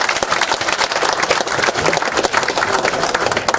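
A political party rally audience in Korea applauds loudly and steadily, dense clapping from a large crowd filling the whole stretch without pause.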